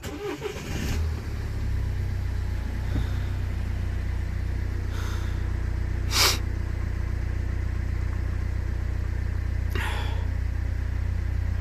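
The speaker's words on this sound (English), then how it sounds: "Let me start the engine just in case." A 2015 Toyota Avensis engine cranks and fires, then settles into a steady, loud, even idle heard up close, with a few faint clicks and knocks over the low hum.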